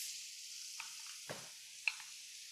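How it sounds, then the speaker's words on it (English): Cod fillet searing in a hot pan gives a faint, steady sizzle throughout, with a few soft clicks and shifts of the pan, quiet and close with no talking. "we'll sear it, like I said, on both sides"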